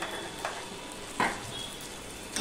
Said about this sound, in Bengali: এবার মশলাটা কষানোর জন্য আমি দিয়ে দিচ্ছি একটুখানি করে জল।